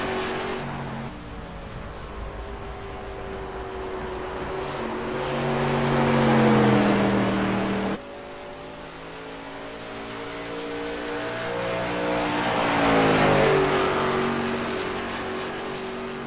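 Late model stock cars in a sim racing game at Phoenix rush past the flag stand, engines roaring loud with rising and falling pitch in two successive pass-bys, each swelling then dropping away.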